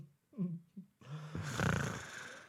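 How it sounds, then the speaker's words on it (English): A person's real snore comes through faintly, with a few short, throaty breathy sounds and then a longer, rasping, noisy snore drawn out over the final second and a half. "That's a real life snore."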